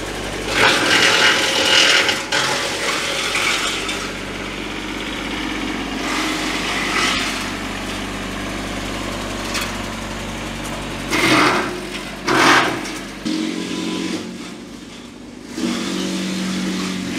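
A Massey Ferguson tractor engine runs nearby, loud and continuous. It makes a buzzing, rattling drone with several sharp surges in revs scattered through the stretch.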